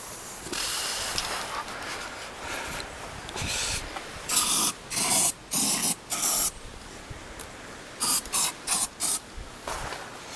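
Carburettor cleaner spray from an aerosol can, given in a string of short, sharp hissing bursts that come faster toward the end, with faint workshop noise between them.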